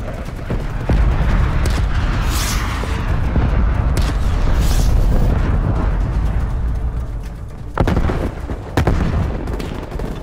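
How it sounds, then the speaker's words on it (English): Artillery barrage explosions in the Call of Duty: Black Ops Cold War video game rumble heavily and continuously, with loud booming impacts and sharp gunfire cracks piling up throughout, no talking heard. "Targets requesting artillery barrage."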